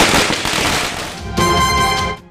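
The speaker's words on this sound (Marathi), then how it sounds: "करत फटाके फोडले," Firecrackers set off in a street celebration in Badlapur, a loud dense crackling barrage of rapid bursts that keeps going, then cuts off abruptly near the end.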